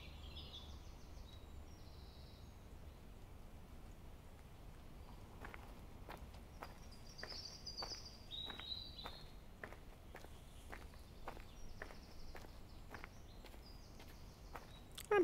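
In the Watch Dogs video game, faint outdoor ambience carries steady, evenly paced footsteps along with scattered high bird chirps, all soft and distant over a low background hiss.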